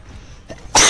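A person sneezes once, a sudden loud explosive burst near the end after a quiet, breathy lead-in.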